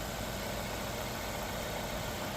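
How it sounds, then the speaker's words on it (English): A Volvo Polestar V90 R-Design wagon engine idling steadily and quietly, a smooth, even hum with no change in pitch and no voices. "Listening to the engine idling beautifully."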